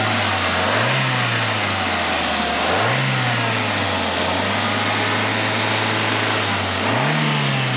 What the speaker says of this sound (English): Rev it up some.